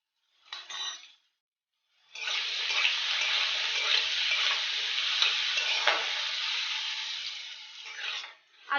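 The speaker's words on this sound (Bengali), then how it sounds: "আলুটা লাল করে ভেজে নিয়েছি," Potatoes fry with salt and turmeric, making a brief burst of sizzle, a pause, then a loud continuous hiss of frying and stirring up close that fades near the end.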